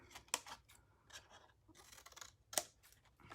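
Scissors snipping a score-line tab off a cardstock coffee scrub box, several quiet close cuts with two sharper snips standing out, soft and intermittent in a quiet room.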